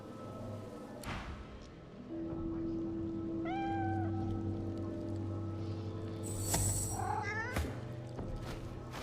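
A skeletal cat in Divinity: Original Sin II gives several plaintive meows, one rising cry mid-clip and a shorter call later, over a sustained low ambient drone with a couple of soft thumps.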